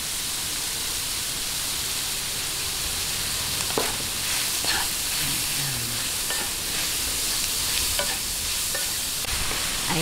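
Ground meat sautés in a pan, a dense, even sizzle with occasional stirring scrapes and light knocks from a spoon, close and steady throughout.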